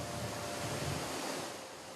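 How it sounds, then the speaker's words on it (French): A broad, constant roar of the Iguaçu waterfalls, a vast stretch of cascades in tropical forest, heard as a dense rushing wash of falling water with no voices. "c'est une force de la nature qui déverse ses eaux tumultueuses sur plus de 3 km de long"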